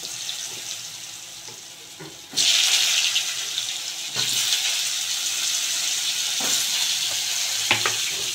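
Bay leaf, green cardamom and dried red chilli hit hot oil for tempering a Bengali banana-flower curry with egg, bursting into a loud, close sizzle that surges again moments later and crackles on steadily.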